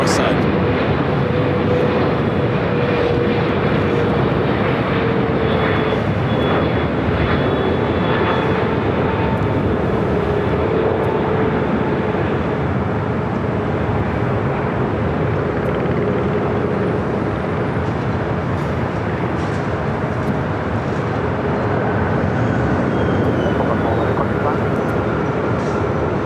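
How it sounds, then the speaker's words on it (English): An Eva Air airliner arrives at LAX as a continuous broad jet roar that holds steady throughout, fairly loud at a moderate distance, with a voice talking over it. "Eva Air, next arrival here on the north side."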